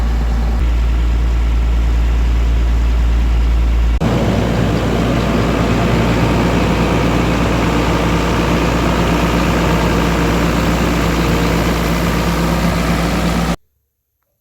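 A New Holland TM175 tractor's diesel engine idles with a deep, steady rumble, close by; partway through the tone shifts and the engine runs louder and rougher until it cuts off.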